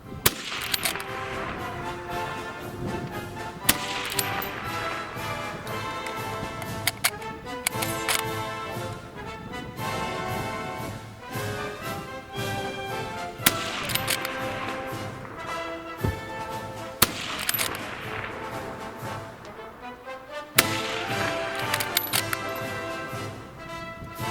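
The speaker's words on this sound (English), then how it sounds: "Steady, measured, loading and shooting saw the 10 rounds down in well under the 60-second time limit." Shots from a Lee Enfield SMLE Mk III rifle ring out one at a time at steady intervals, sharp and loud, with the metallic clatter of rapid bolt working and reloading between them.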